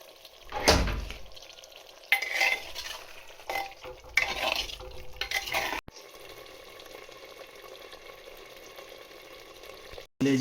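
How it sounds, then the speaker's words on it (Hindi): Pieces of liver are fried and stirred in gravy in a pan, with scraping spoon strokes, clinks against the pot and soft sizzling that come in bursts and gaps, with no voices. "अब हम इसमें कलेजी शामिल करेंगे और इसको अच्छी तरह से पहले भून लेंगे।"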